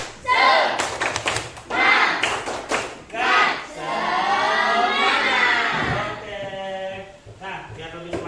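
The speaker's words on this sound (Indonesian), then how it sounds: "Yuk kita tepuk semangat lagi." A group does a rhythmic spirit clap in a classroom, sharp clapping bursts between enthusiastic chanted shouts, loud and close, in a lively patterned sequence.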